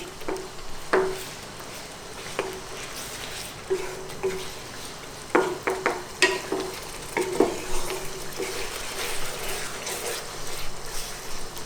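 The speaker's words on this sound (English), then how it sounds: "we need to just give that a little stir around" Beef Thai green curry stirred in a pan over a raised flame: a spoon scrapes and knocks against the pan in irregular bursts over a soft, wet simmering bubble, close by, with no talking.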